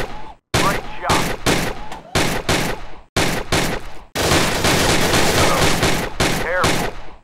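Loud, close gunfire in the Gun Club VR video game: short bursts of rapid automatic fire separated by brief pauses, then a long sustained stream of shots.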